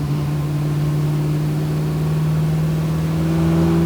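A 1969 Chevrolet Camaro SS engine pulls steadily while driving, a loud, continuous low drone with a slow rising tone and no voices over it.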